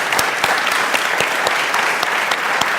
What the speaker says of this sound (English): A round of applause for Simon, please.